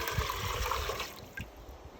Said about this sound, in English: What I'm gonna do is take roughly 4 cups of water